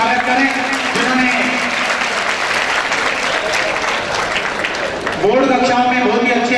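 Hearty crowd applause at a student awards ceremony in Hanumangarh honouring high board-exam scorers, continuous and loud throughout while a voice speaks over it.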